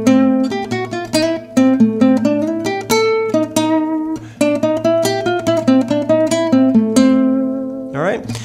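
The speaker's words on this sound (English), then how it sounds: "Now, this whole melody comes together over these changes to sound like this." A guitar plays a bossa nova melody over changing chords, with clear plucked notes in a steady, syncopated rhythm, moderately loud and without accompaniment.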